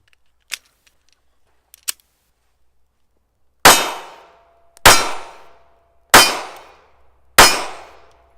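Four sharp, loud pistol shots from a Ruger LCP II .380 fired at a target, evenly spaced about a second apart with quick decaying ring, preceded by a couple of faint metallic clicks.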